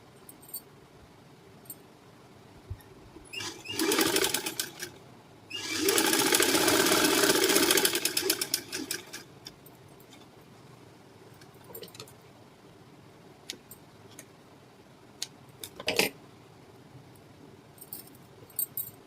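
A sewing machine stitches the collar seam of a halter neck blouse, running in two loud bursts, one short and one longer, with quiet room tone and a few light clicks afterward.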